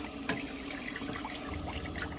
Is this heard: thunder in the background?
no